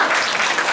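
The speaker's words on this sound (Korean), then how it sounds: "마지막으로 수고해 주신 김종배 이사장님께 다시 한번 박수" An audience at a citizens' forum in a workers' cultural centre breaks into applause, a brief, dense burst of clapping filling the hall, loud and close.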